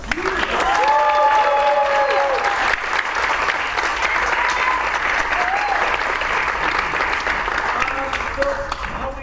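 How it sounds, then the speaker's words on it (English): Sustained audience applause for the orchestra at a 4th and 5th grade band and strings concert fills the space, steady and dense throughout, with a few voices and whistles faintly rising above the clapping. "And one last round of applause for the orchestra."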